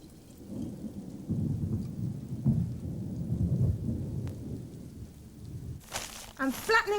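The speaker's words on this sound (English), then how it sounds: "It's pouring with rain still." Steady heavy rain pours down outdoors in a continuous low wash, with scattered thumps and spatters, and a voice briefly breaks in near the end.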